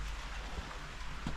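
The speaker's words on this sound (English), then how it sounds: "I'm going to go hide from this rain for a moment" Rain pattering outdoors near a motorbike, a soft steady hiss of drops with a low rumble underneath, faint and continuous over a brief moment with no talking.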